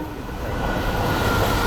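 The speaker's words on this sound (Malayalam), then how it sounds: "ട്രെയിൻ വരുന്നുണ്ട് ഗായ്സ്." A train passes a closed railway level crossing as a loud, continuous rumble and roar that slowly builds and holds steady close by, with no talk.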